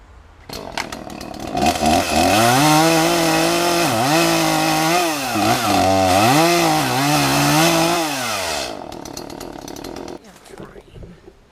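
A chainsaw cutting into a tree, loud and close, the engine bogging and rising in pitch as it works through the wood for several seconds before revving down to an idle.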